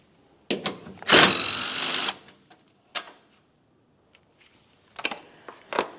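A power tool whirs on a headlight mounting bolt of a 2010-2013 Ford Transit Connect, with one sustained buzzing run and several short bursts and clicks separated by quiet gaps.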